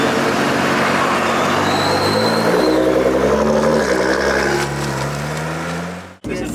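A Nissan GT-R with a loud Inconel exhaust roars steadily up close, the engine note shifting in pitch as it revs, then cutting off abruptly near the end.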